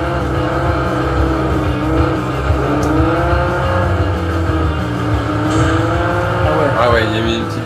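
Ferrari car racing in the Super Runabout 2000 video game, a loud, sustained engine drone with shifting pitch and a brief tire squeal near the end, under continuous talk from players.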